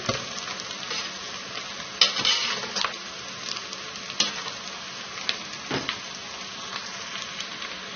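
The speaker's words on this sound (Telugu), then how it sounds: "ఈ క్యారెట్ తురుము కూడా చక్కగా వేగాలి" Grated carrot fries with ginger and garlic for fried rice, a constant crackling sizzle under repeated scraping strokes of a spatula against the pan, close and clear with no voices.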